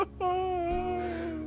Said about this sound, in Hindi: तभी अचानक गुफा के अंदर से किसी के रोने की आवाज आई।